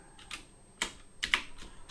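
A computer keyboard is typed on with a few scattered, soft key clicks, close and quiet.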